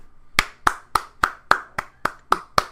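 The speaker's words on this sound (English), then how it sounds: "round of applause for you, my dude" Single pair of hands claps nine times in a slow, steady rhythm, sharp and close, with nothing else around.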